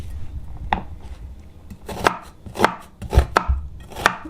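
Knife chopping onions on a board while cooking Kenyan pilau, a run of sharp, close thuds falling in an uneven rhythm, some strokes doubled, with no talking.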